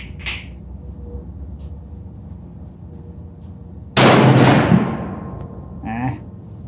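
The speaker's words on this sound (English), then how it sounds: "Here goes the third shot at 75 yards." A single loud, sharp report from a Browning AB3 bolt-action rifle in .243 fired outdoors at a 75-yard target, with a long decaying boom after it. A quiet, steady background comes before the shot and a brief faint sound follows.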